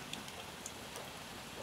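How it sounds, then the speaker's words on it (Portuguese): Rain falling outside during home cooking of fritters, a faint steady patter with a few soft drip ticks, distant and continuous with no talk. "E o tempinho não quer dar trégua na chuva."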